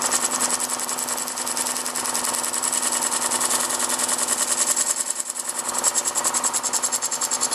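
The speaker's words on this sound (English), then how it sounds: "Now we can also try the cutter on one of our finishing tools." An Easy Wood Tools round cutter taking a finishing cut on a spinning wood lathe, a steady close whirring hum with a fast, even rhythmic chatter, loud and continuous without talk.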